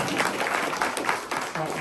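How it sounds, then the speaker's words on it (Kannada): Audience applause at a Kannada Vachana literature quiz held by the BEML Basava Samiti in Mysuru: a steady, moderately faint patter of many hands clapping together, filling the room evenly without a clear break. "ಅವರಿಗೂ ಕೂಡ ಜೋರಾಗಿ ಚಪ್ಪಾಳೆ ಕಟ್ಟ"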